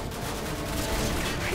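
An armored vehicle in Call of Duty Modern Warfare 2 fires its gun in a short, loud burst of rapid shots that blur into a dense rumble.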